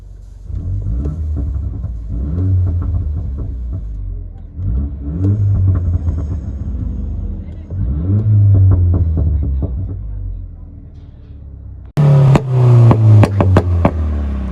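A 2015 Mini Cooper with a straight-pipe exhaust revs up repeatedly in loud, throaty rising and falling bursts, close by, ending in a sharper crackling rev after a brief cut.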